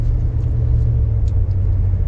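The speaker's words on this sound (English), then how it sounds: "from the truck as we drive through." Truck engine rumbling steadily nearby while driving through Bar Harbor town streets, a continuous low drone with no voices.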